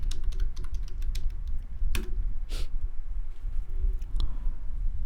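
Someone types a search for a JDK download on a computer keyboard, with a few seconds of crisp, irregular key clicks over a steady low room hum and no speech.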